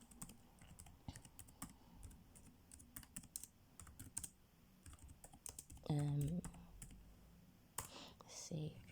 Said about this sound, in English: Okay, I'm going to type in